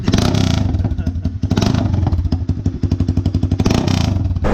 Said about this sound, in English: I got the muffler off. Let's see what it's like with no muffler on at all.